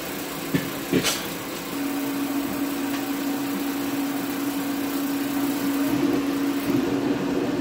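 A Dyna Glo portable propane heater runs with its blower on, giving a steady close-up fan roar and hum with a few brief knocks near the start, continuous and unchanging throughout.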